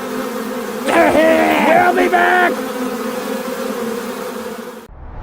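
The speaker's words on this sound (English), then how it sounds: "Make sure that there's no more bees in the studio." Bees loose in a broadcast studio give a steady buzzing hum, with a voice calling out briefly over it before it cuts off.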